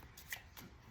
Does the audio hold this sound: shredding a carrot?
no